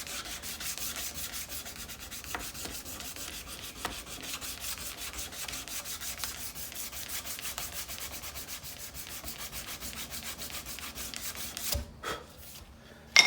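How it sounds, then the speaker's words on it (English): Steady, continuous rubbing of sandpaper over stainless steel pins set in a file knife handle, backed by a board, close and even for most of the stretch before stopping with a few light knocks. "the stainless pins, you just got to sand with a backer board constantly"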